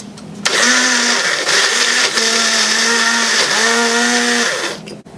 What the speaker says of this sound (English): I have my blender plugged in, and this type of blender, we put this in upside down and push.